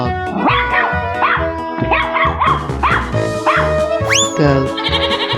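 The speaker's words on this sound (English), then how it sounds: "Dog." Cartoonish dog barks from a 3D animal sliding video game, a string of repeated bright yelps over steady game music, loud and close, ending with a rising whistle-like effect.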